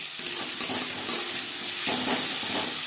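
Chopped onion hits hot oil with cumin seeds, setting off a loud, dense sizzle with spattering bursts and stirring scrapes that swell again near the end, with no talking.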